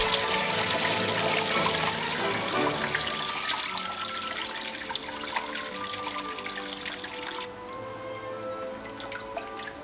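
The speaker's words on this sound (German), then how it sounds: "Dann sieht man hier den Wasserfall auf oberster Stufe, wieder freigespült und bereit für langfristige Aufgaben" Water runs steadily down the waterfall of a tropical terrarium, a close, continuous trickle with scattered drips, softening slightly near the end.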